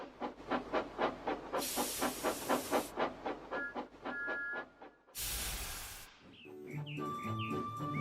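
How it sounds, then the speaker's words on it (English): A model steam locomotive chuffs in a steady rhythm, with bursts of hissing steam, a whistle, and a brief melodic jingle at the end. "As Molly puffed on towards the big station"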